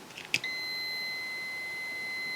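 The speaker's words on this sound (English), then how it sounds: "You can also set it so that it beeps when you've got continuity" A short click followed by a steady high-pitched continuity beep from a Megger MFT1741+ electrical tester that holds continuously, clear and close, with no talk.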